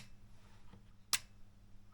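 A Mesa Boogie Lone Star Special guitar amp in standby gives one sharp, faint relay click, a single brief tick against a quiet low hum.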